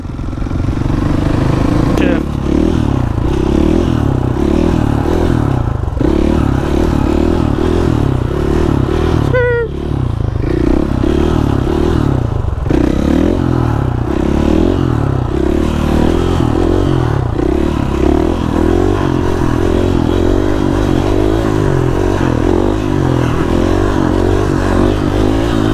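A motorcycle in a supermoto video game riding on a flat tire's rim, a loud continuous engine drone with clattering and scraping, and speech over it.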